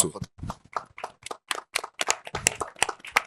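A small audience claps in quick, uneven bursts at a live French comedy show in Los Angeles, with sharp individual claps close by rather than a full wash of applause.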